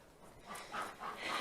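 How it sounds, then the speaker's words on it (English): Farm dogs panting and whimpering at morning feeding time outdoors on a cold day, short breathy pants and soft whines rising in a few bursts, close by, with no talk. "every morning the dogs decide they're going to eat when we get here"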